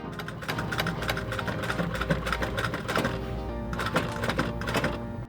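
An industrial sewing machine top stitches a jeans zipper keystone, with a steady, rapid mechanical chatter and rhythmic thumping running continuously at close range, no voices.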